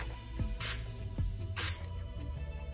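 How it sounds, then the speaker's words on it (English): Wet n Wild setting spray misted over a made-up face during a drugstore makeup routine, two short hissing bursts close to the microphone over a low background hum. "We're gonna use our new spray again from Wet n Wild's."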